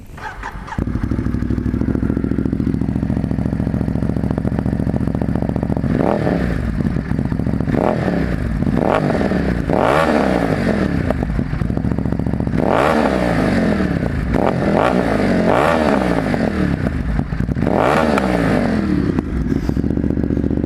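A 2023 Ducati Monster fitted with an aftermarket exhaust idles loudly, then revs repeatedly in sharp bursts that rise and fall, with crackly throttle blips between the pulls, close and without talk.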